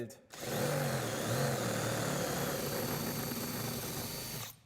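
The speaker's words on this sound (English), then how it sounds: "now we take a drill and drill out the old rivets" A steady, loud mechanical whine of a power drill drilling out old rivets in a VW T6.1, running continuously for several seconds, with a droning hum and no pauses.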